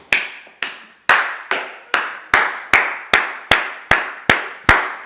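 Congregation in a church applauding together in slow, steady unison claps, about a dozen sharp, loud, reverberant beats evenly spaced, with no talk over them.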